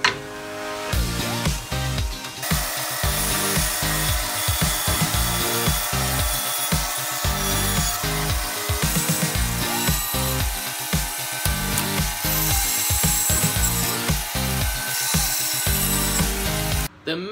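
A power saw cutting up matchstick pen blanks in a workshop, a loud continuous buzzing whine with a rough grinding texture that runs steadily for over fifteen seconds before stopping abruptly.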